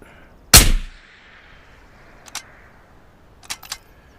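A single sharp gunshot in a shooter video game, loud and abrupt with a short decaying tail, followed by a few faint clicks.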